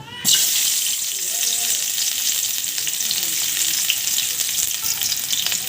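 Chopped onion sizzling and frying in hot oil in a pan for egg noodles, a steady loud hiss with crackling throughout after a brief quiet start, no speech.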